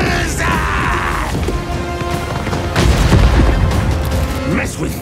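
Warp lightning cannons in the Total War Warhammer 2 video game fire heavy booming blasts over a dense, continuous bed of battle noise, with a louder surge of crackling impacts midway.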